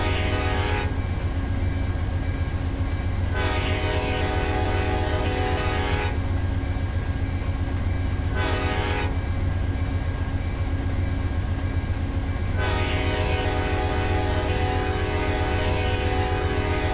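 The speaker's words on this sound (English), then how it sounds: "here's some looping in my horn too" An Amtrak locomotive horn in the Run 8 Train Simulator game blares in long repeated blasts over a steady rumbling diesel engine, loud and close, with short gaps between blasts.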